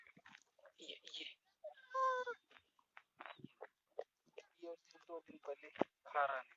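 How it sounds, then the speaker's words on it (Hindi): A baby goat on a goat farm, recently ill with an upset stomach, gives several short nasal bleats and cries close by, with people talking between them. "ये जो बकरी का बच्चा है"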